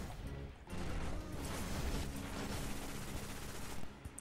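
A Nova Bomb ability goes off in the Destiny video game, a loud, dense roar of blast and crackling gunfire-like noise that lasts about three seconds after a brief lull.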